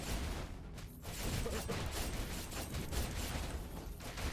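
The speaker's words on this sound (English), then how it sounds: "It's always nice hearing that, you know, fireworks sound when you're playing Treasure 4." Fireworks from a treasure pickup in the video game Skul the Hero Slayer crackle and pop in a dense, continuous fizzing burst with a few whooshes, loud and close, no talking.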